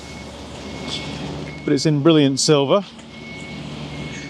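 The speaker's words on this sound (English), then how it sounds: "Excuse the noise, we're on a building site at the moment." Building site noise with a truck's reversing beeps repeating steadily in the background, partly masked as someone speaks briefly in the middle.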